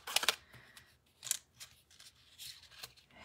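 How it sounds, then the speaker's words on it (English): A die cutting machine cutting paper craft pieces gives off a few quick, sharp crisp crunches and snips, close and fairly quiet, with short gaps between bursts. "So we're going to die cut all this stuff."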